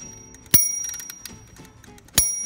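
Two crisp metallic bell dings from a 1931 Royal 10 typewriter, about one and a half seconds apart, each ringing briefly over soft mechanical tapping and clicks.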